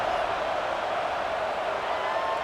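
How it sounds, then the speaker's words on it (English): A stadium crowd in an EA College Football game buzzes steadily after a score, a dense continuous roar of many voices that stays loud and even throughout. "this crowd is buzzing after that last score"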